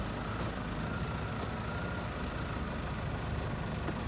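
A used car's engine idles with a steady low rumble as the automatic transmission is shifted into drive, a continuous close hum with no distinct clunk standing out.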